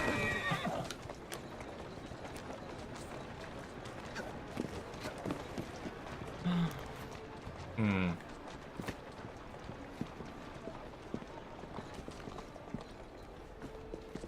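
Video game horse hooves clip-clopping steadily with a couple of whinnies, against a busy noisy street background and occasional voices, in Assassin's Creed: Syndicate.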